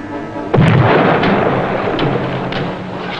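Bombs from a PBY aircraft explode in a submarine video game set at Woleai: one heavy boom erupts about half a second in, then a long, loud rumbling roar slowly fades. No one speaks.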